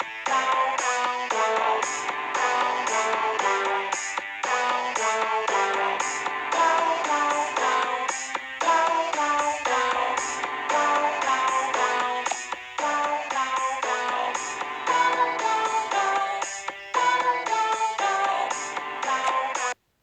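Looping theme music from the video game My Singing Monsters, the short version of the Six's theme, plays loud and steady with dense layered tones and a bouncy repeating rhythm, no voices over it.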